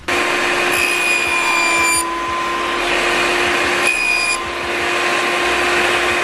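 A saw cuts plastic sheet for a car audio installation with a loud, steady whine, its tone shifting slightly as the blade bites during two passes, with no talking.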